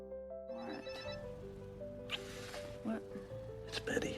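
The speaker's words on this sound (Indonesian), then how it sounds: "tiba-tiba handphone Clive berdering" A phone rings with a steady electronic tone beneath sound effects and background noise, fairly quiet and mixed with other sounds.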